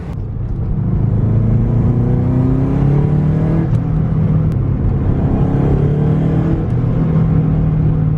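A Subaru WRX engine runs steadily through a test drive after repair work, a loud, close, continuous drone whose pitch climbs and settles as the car accelerates and shifts, with no talking.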